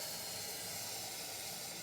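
Steady, loud hiss of steam venting from a dual-boiler E61 espresso machine being drained, continuous and broadband with no pauses or voices.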